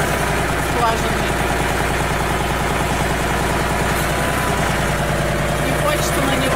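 Tractor engine running steadily as it drives through a village yard, a close, even low mechanical chugging throughout with no talk.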